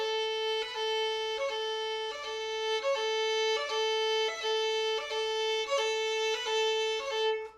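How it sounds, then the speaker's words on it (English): Violin sustaining one steady bowed pitch with repeated short-long dotted rhythm accents, evenly spaced and close, no talking. "And it just sounds like a short, long rhythm."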